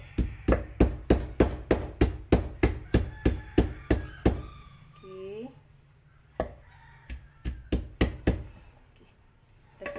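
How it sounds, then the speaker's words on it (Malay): Galangal root pounded with a pestle in a Malaysian home kitchen: a steady run of about twenty sharp, close knocks, then a pause with a short spoken phrase, then a looser cluster of further strikes. "Dan kita ketuk kita punya lengkuas"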